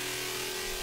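Unfiltered synth bass patch built in Xfer Serum for a scream-style dubstep sound, without a low cut filter, playing as a loud, dense, sustained buzzing tone with heavy low end for just under a second.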